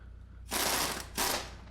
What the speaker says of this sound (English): Now I'm going to remove that nut, spin that off there